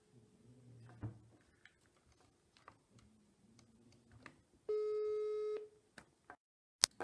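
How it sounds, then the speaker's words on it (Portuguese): A phone call placed over a live online session: a steady ringing tone with harmonics sounds once for about a second, following scattered faint clicks and taps, clear and close with no talking. "Eu vou então aqui ligar para Ana Paula"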